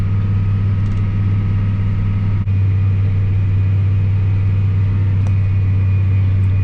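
A rock crusher machine creeping along at about 0.6 miles an hour while crushing rock, a loud, steady low engine drone with constant rumble and a couple of brief knocks.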